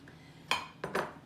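A fork clinks and scrapes against a bowl while dry muffin ingredients are stirred, with three short close metallic strokes, one alone and then two close together.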